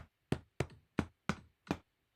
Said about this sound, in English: Me hitting an old couch with a baseball bat